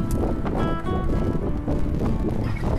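Chilly morning wind buffeting the microphone while crossing the River Ken by boat in Panna Tiger National Park, a steady low rumble of gusts throughout with no talking.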